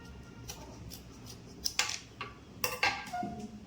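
A milk packet is snipped open and poured for payesh, a Bengali rice pudding, giving a few faint, close clicks and plastic rustles followed by a soft trickle near the end.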